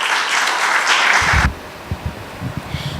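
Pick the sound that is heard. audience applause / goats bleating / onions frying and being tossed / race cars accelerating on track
audience applause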